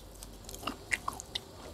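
Shrimp soaked in fish sauce and chewed with a few soft, sticky, wet bites, close and faint, with no talking.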